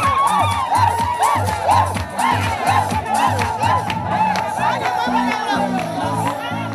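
A large crowd cheers and shouts at a stadium event honouring women as the first lady passes through, whoops and chanting voices loud and continuous over the whole stretch with a rhythmic drum-like beat underneath.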